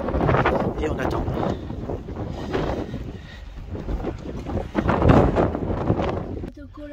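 Strong wind buffets the microphone in loud, continuous gusts during a crossing to England, with people talking faintly underneath.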